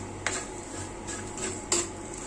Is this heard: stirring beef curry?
yes